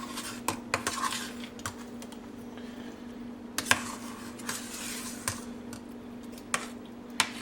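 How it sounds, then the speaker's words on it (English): A mac and cheese meatloaf mixture is stirred in a bowl, with a few scattered light utensil clinks and taps over a steady low kitchen hum, fairly quiet and with no talking. "My assistant is going to stir that all together."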